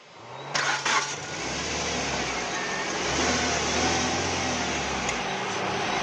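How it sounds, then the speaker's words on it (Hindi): Suzuki Swift with a misfire problem cranking briefly, then catching and settling into a steady idle, close and fairly loud with no talk. "स्टार्ट करो गाड़ी।"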